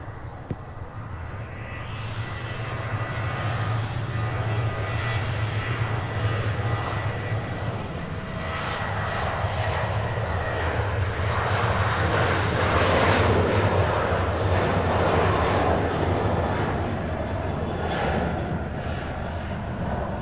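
A United airliner departs Nashville International Airport bound for Dulles, its jet engines building into a loud, sustained roar that swells and holds steady throughout, with no talk over it.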